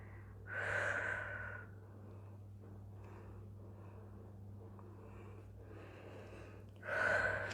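Heavy breathing after a full-body workout exercise: two loud, close, gasping breaths, one near the start and one at the end, with quieter breathing and a low steady hum between them.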